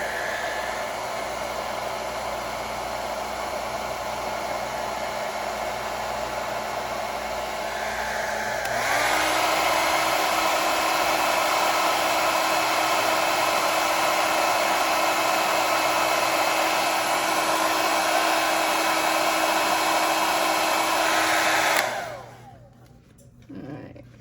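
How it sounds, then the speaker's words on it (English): A hair dryer, used to dry a thick coat of conductive paint, blows with a loud, continuous roar, kicking up to a higher setting partway through before switching off. "with the blow dryer"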